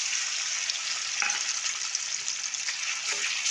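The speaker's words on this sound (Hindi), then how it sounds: "देखते एबे मोर मसला कषी होची" Masala sizzles in hot oil in a kadai, a steady loud close crackle and hiss throughout, with a few faint stirring scrapes and no talking.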